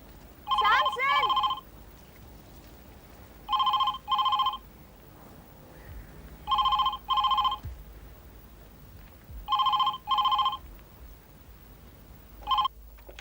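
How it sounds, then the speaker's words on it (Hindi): A telephone rings repeatedly indoors with bright electronic double trills in regular bursts about every three seconds, five rings in all, with a brief voice and faint room noise in between. "तो फिर इतनी घंटियां बज रही थी, फोन क्यों उठाया?"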